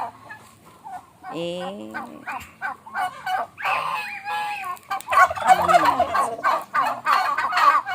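Turkeys gobble repeatedly in warbling bursts at close range, with a dog barking briefly among them and ducks nearby, the calls growing louder and denser toward the end.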